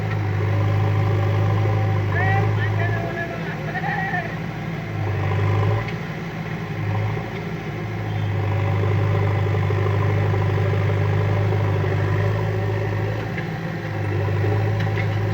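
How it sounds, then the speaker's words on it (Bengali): A JCB backhoe working on soft ground where its tyres sink, a steady low engine rumble with load shifts and revving swells, with voices talking over it. "দেখো কত রিক্সে কাজ করছে, যেই জেসিবি রাখবে সেই ফেঁসে যাচ্ছে"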